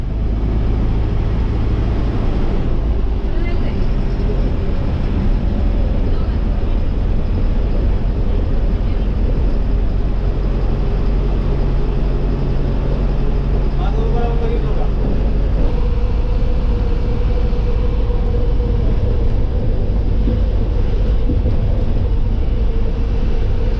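A new MSRTC BS-6 state transport bus travelling from Latur to Solapur, its steady engine rumble and road roar filling the cabin continuously and loudly, with muffled voices under the drone.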